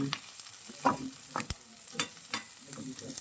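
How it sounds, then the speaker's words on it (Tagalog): Onion and garlic sauté in a pan with a soft, quiet sizzle, broken by several sharp scrapes and clicks of a spatula stirring. "Magisa na tayo mga kalalabs ng sibuyas at saka bawang"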